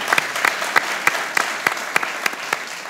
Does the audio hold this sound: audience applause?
yes